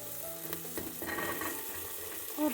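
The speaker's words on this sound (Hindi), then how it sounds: "तो तड़का तैयार हो गया है। अब मैं इसमें ये जो मैंने यहाँ पे थोड़ी सी सब्जी काटी हुई" Chopped vegetables hit hot oil in a tadka tempering, frying with a steady loud sizzle and a few stirring scrapes, no one speaking.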